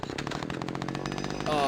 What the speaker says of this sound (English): Oh, that's a chainsaw.